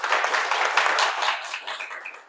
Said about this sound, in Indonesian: Boleh dong tepuk tangannya